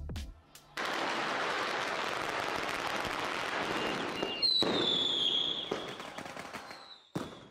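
Fireworks at a celebration near the China–North Korea border crackle in a dense, continuous burst of pops for several seconds, followed by a rising whistle and a final sharp bang.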